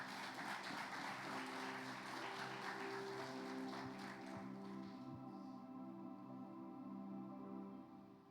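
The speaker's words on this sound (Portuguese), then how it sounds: "Aplauda mais uma vez, Senhor" A church congregation applauds during a sermon: dense, steady clapping at close range for about four seconds, then it thins as sustained tonal music carries on beneath.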